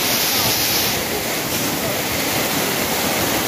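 A waterfall at Maliko, San Nicolas, roars loudly and continuously, a dense unbroken rush of falling water filling the whole clip.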